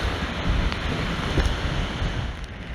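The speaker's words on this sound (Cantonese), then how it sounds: "海浪越過海堤，衝上海濱長廊" Storm surge waves from a super typhoon break over a seawall at Hong Kong's Heng Fa Chuen waterfront, a loud, churning roar of surf and gusting wind with repeated surges in a short burst.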